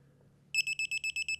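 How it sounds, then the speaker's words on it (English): A digital torque wrench, used while installing an inverter mini split heat pump, gives a quick, steady run of about eight bright, evenly spaced beeps, close and clear over a quiet background. "this torque wrench is going to beep, beep, beep until we approach the correct torque value"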